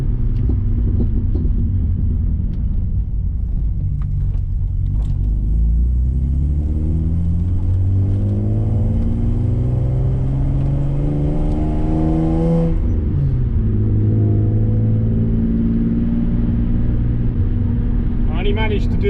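Wide 275 AR1 tires give a loud, constant road roar and low rumble from inside a moving car, with engine tone rising and falling through gear changes.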